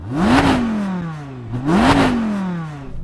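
An Audi R8 GT V10 with a sport exhaust revs up twice, each rev rising sharply then falling away in a throaty exhaust roar, close and loud with no talking.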